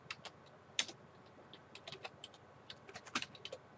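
Rapid, quiet clicks of typing on a computer keyboard come in irregular bursts of keystrokes, close and faint, with no voices.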